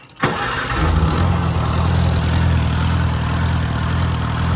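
A 1950 Farmall Cub tractor engine cranks and catches almost at once, then settles into a loud, steady, slightly rough idle that runs on close by.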